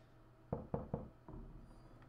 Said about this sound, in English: Oh, it was you knocking.